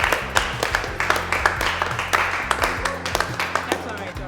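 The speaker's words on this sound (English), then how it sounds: "Clap for her, please." A group claps at a school gathering in a TV drama, making a burst of scattered, uneven hand claps that continue for a few seconds, with a voice speaking over the applause.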